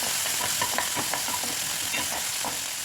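Chopped capsicum frying in a hot pan with oil, a dense steady sizzle with scraping stir strokes on top, close and fairly loud, no voices.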